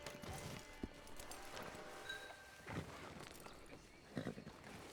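Horse hooves clip-clopping in the video game Red Dead Online, a few irregular soft thuds over ambient outdoor background at moderate distance, with no talk.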